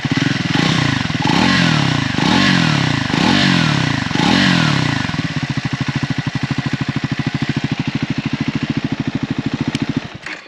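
A Triumph Scrambler 400X on its stock exhaust, close by, revs in a series of quick throttle blips before settling into a steady, thumping idle.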